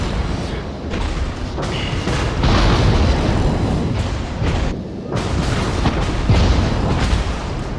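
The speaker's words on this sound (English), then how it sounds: "I'm deciding here to redirect my secondary guns to fire at the Baltimore while I keep mostly shooting at the Hood with the main guns" Heavy naval gunfire from the battleship USS Massachusetts in World of Warships, with main and secondary guns firing in a dense stream of loud booms and blasts layered over each other.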